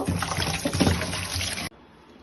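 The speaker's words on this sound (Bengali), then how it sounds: "মাছগুলিকে এখন ধুয়ে নিব" Small swamp barb fish being washed in a bowl of water: close, busy splashing and sloshing for under two seconds, then an abrupt stop into near silence.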